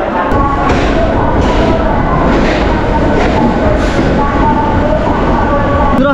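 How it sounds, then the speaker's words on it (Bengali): A local train pulls out of platform 6 at Howrah station in Kolkata. A loud, steady rumble of rolling carriages fills the clip, with scattered thuds and faint voices in the background. "হাওড়া 6 নম্বর প্ল্যাটফর্ম থেকে আমাদের ট্রেন ছেড়ে দিয়েছে একদম রাইট টাইমে"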